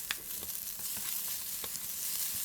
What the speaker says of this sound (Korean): 샐러드에 사용할 어묵 조금 남기고 볶아주세요